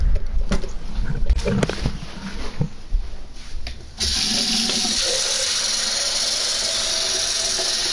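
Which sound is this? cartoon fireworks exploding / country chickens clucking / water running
water running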